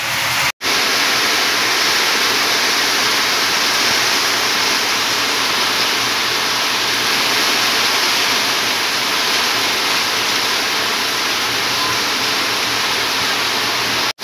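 Heavy rain pouring down during the year's first downpour, a dense steady hiss of water that fills the whole clip at high level, constant and close, with no one talking.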